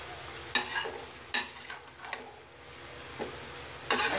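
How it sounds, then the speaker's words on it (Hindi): Veg biryani with paneer being stirred in a pot before the lid goes on, with a few sharp scraping clinks against the pan over a soft background hiss. "पनीर को आप लास्ट में डालिए, तो हम चला के ढक देंगे"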